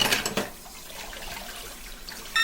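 Dishes being washed with hot water, a brief splash of running water from a tap settling into a soft, steady trickle that is fairly quiet and close.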